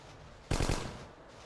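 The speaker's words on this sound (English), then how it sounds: "Who's shooting and from where?" Short burst of automatic gunfire from the video game Hidden & Dangerous Deluxe, a quick rattle of three or four shots that rings out briefly over a low, steady background.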